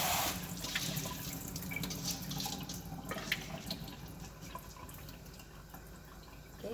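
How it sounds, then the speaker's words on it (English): Steady running tap water splashes continuously for several seconds, a close, even rush with small clatters and drips of lentils being rinsed. "Just rinse this off because you know there's some"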